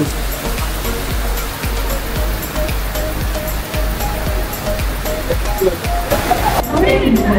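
Loud, rushing downpour drums close by at Marina Bay, Singapore, in a continuous wash of noise, with a faint voice briefly audible beneath it.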